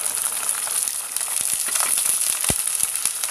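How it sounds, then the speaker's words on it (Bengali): Onion paste dropped into a frying pan of browned fried onions for morog polao, a steady close sizzle and crackle with scattered sharp pops and a spatula scrape or two. "পেঁয়াজটা ভাজা হয়ে গেছে, আমি এখন পেঁয়াজ বাটাটা দিয়ে দিচ্ছি প্রথমে"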